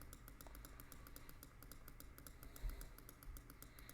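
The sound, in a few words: mouse clicking while playing Dream Daddy video game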